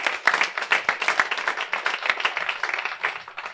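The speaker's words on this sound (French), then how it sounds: "S'il vous plaît, on applaudit" Studio audience applause on a French talk show: a short, dense burst of many hands clapping together at close range, loud and steady, then easing slightly toward the end.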